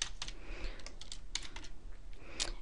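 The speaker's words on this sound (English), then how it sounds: "trying to type too fast" Rapid, uneven tapping on a computer keyboard while a web page is being edited, close and moderately quiet, with bursts of keystrokes and brief pauses.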